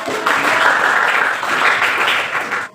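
A classroom audience claps after a lesson presentation, giving a short burst of brisk applause that stays full and even throughout, then tails off sharply at the end.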